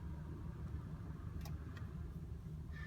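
A 2016 Volkswagen Passat R-Line idling at low volume, a steady low engine hum with a couple of faint clicks over it.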